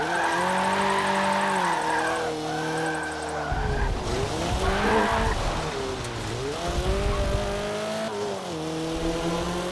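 A car drifting in a racing video game: engine revs rising and falling in long sweeps while tires squeal loudly through corners, the screech swelling and fading as the car slides, with no voices over it.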